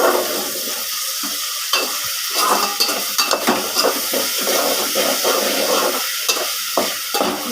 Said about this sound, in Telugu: ఇలా వేసేసుకొని ఇవి కూడా బాగా కలుపుకోవాలి.